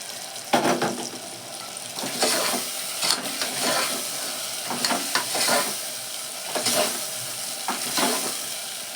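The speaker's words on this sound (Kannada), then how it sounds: "ಬದನೆಕಾಯಿ ಹಾಕ್ಬಿಟ್ಟು ಒಂದು 1 ನಿಮಿಷ 2 ನಿಮಿಷ ಫ್ರೈ ಮಾಡಬೇಕು" Brinjal sizzles loudly as it fries in a pan, with repeated stirring scrapes breaking the steady hiss at irregular intervals, close and up front with no talking.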